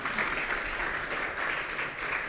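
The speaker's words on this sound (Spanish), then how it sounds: "Un fuerte aplauso, por favor," A hall audience at a Latin American and Caribbean youth ministry gathering gives a speaker steady, dense applause. The many hands make an even wash of clapping with no talking over it.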